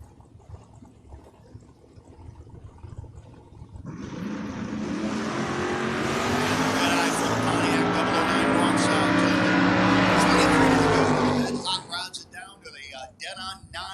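Drag race cars, including a Pontiac, launch and roar down a drag strip. A loud, sustained engine howl swells, holds for several seconds, then fades, with a voice talking over the start and end.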